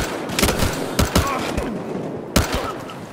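Sharp gunshots from the video game Battlefield Hardline, a few loud separate reports with short bursts, close and punchy over a busy game background, with no voice over them.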